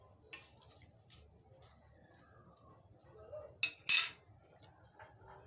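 A metal spoon stirring saluyot vegetable soup in a pot, giving a few faint clinks and scrapes at the start, then two louder clatters near the end against a quiet background.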